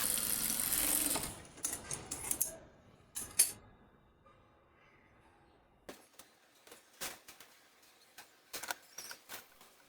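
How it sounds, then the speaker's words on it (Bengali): A sewing machine stay-stitches the neckline of a jamdani saree fabric, with a dense whirring burst at first. Short, quieter bursts of stitching and soft ticking follow, broken by gaps. "পিছনের গলাটি সেট করার পূর্বে আমরা গলাটিতে একটি চাপ সেলাই দিয়ে নিব, ফিনিশিং ভালো থাকার জন্য, যেহেতু এটি একটি জামদানি কাপড়"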